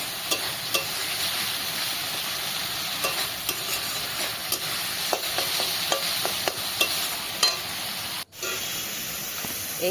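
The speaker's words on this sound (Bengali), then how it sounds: "জলটা দিয়ে আর একটু কষিয়ে নেব। আর এই সময় একটু নিবু নিবু জাল দিতে হবে" Prawn malai curry cooks down in a pan over low heat with water added, giving a steady sizzling hiss broken by scattered scrapes and taps of a spoon stirring.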